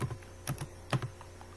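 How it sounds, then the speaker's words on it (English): Keys on a computer keyboard are tapped in a few short clusters of clicks while player names are entered for a futsal game simulation, quiet and close, with no talking. "let's type Kaka, Jalminha"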